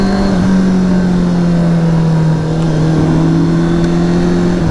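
A 2023 Honda CBR650R sport bike engine drones loudly and steadily under acceleration, its pitch dipping briefly midway as the quick shifter changes gear, then climbing again; no speech.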